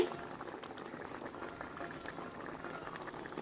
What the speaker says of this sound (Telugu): ఈ గుడ్డు మీద కొంచెం పులుసు వేసుకొని మనం మూత పెట్టేసుకొని మరగనిద్దాము